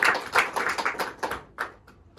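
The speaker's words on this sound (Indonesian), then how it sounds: "Tepuk tangan." Schoolchildren in a classroom clap their hands together in a quick rhythmic burst of distinct claps, then a few separate claps before it stops.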